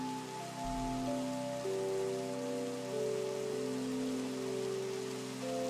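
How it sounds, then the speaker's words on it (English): Steady Minecraft rain hisses evenly throughout, with sustained tonal music notes droning underneath; no voices. "and it's raining"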